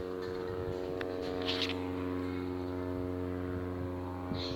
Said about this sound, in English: Oh god, there's another aeroplane.